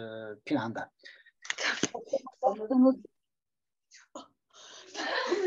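A single sharp sneeze bursts out near the start of an archaeology lecture at Kültepe, followed by a person talking and then quieter shuffling.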